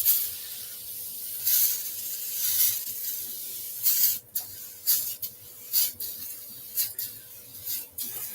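Spray starch hisses onto fabric in a series of short, close bursts, first spaced out and then coming in quicker repeated sprays.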